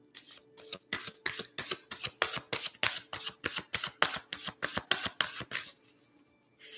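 Deck of tarot cards shuffled by hand, a close, quiet run of about twenty rhythmic riffling flutters in steady succession, then a pause.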